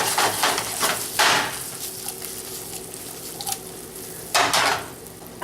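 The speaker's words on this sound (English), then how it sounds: "I'm going to get my shrimp and my crab meat in there and get them warmed up and seasoned" Canned baby shrimp and crab meat stirred and warmed in a pan, with sizzling and scraping bursts and occasional utensil knocks against the pan, close and fairly loud with no talk.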